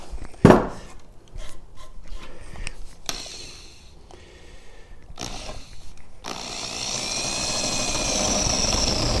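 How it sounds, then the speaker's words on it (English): A hole saw cutting through wood over a bolt while restoring a 1940s trailer: scattered knocks and rustles give way to a steady grinding, rasping drone that builds and continues to the end, close and loud. "So we take our hole saw,"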